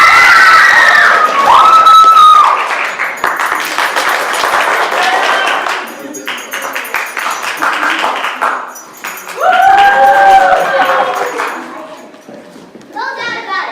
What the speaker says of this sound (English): The applause has decided.